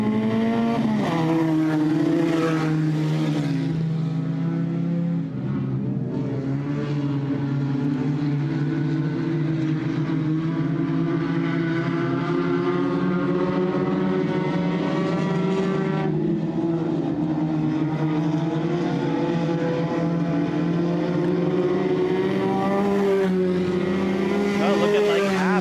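Mini stock race cars roar around a dirt oval during a feature event, with engines droning and rising in pitch as they pass and a race announcer talking over the noise throughout.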